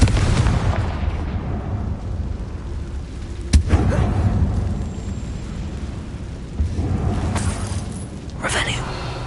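A Confringo fire spell bursting inside an abandoned goblin mine in Hogwarts Legacy: loud explosive booms over a steady rumble, with one sharp blast partway through and several smaller bangs afterward.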